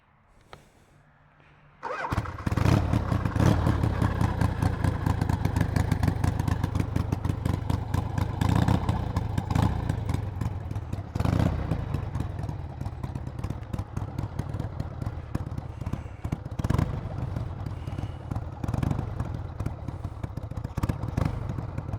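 A motorcycle fires up after a quiet moment and rides through a neighborhood, its loud, close engine chugging and clattering with uneven surges of throttle.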